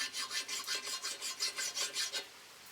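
A metal file rasping a burr off a part from an Edison Diamond Disc phonograph gear train, with about a dozen quick, even, close strokes in a steady rhythm.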